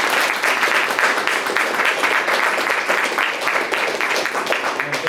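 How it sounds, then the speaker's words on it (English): An audience at an AI and storytelling meetup claps for the panelists, a loud, dense round of applause with a faintly pulsing rhythm sustained throughout. "give a heartfelt applause to our panelists"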